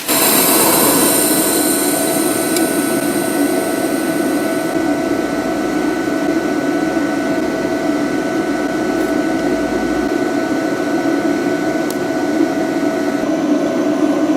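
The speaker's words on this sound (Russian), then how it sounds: "попробуем сварить такими же швами миллиметровую сталь и оцинкованную" A HITBOX HBT2000 TIG welder runs a butt weld on 1 mm steel without filler rod, giving a continuous, even hiss and electrical buzz that holds at a steady level from start to finish.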